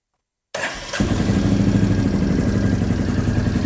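A Royal Enfield Classic 350 motorcycle cranks briefly after silence, then fires and settles into a loud, steady thumping idle close by.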